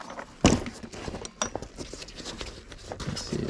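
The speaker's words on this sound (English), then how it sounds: "And some pin punches too." Metal pin punches are handled while a tool bag is packed, giving one loud close clatter followed by lighter scattered metallic clinks and rattles, heard alone with no voices.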